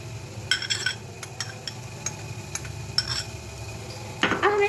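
Cabbage and corn stirred in a pan for a cheese sandwich filling, giving soft scraping and clinks of a utensil against the pan in scattered strokes, with a louder clatter near the end, over a low background.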